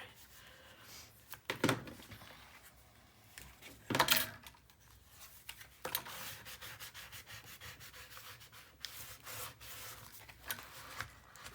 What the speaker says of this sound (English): Give it a nice, thorough, firm burnish